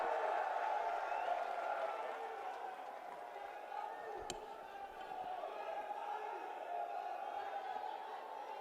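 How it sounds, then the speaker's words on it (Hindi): At a large political rally, a crowd applauds and cheers to welcome Priyanka Gandhi Vadra. Loud, sustained applause and crowd roar fill the open ground from start to finish, with one sharp thud partway through. "जोरदार तालियों से स्वागत कीजिए प्रियंका गांधी वाड्रा जी का"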